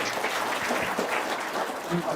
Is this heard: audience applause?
yes